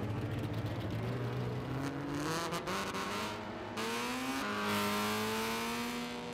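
Race cars with huge engines in the Gran Turismo 6 video game, their rising and falling engine drones layered together, accelerating through gear changes with a steady whine, fairly quiet and without talk.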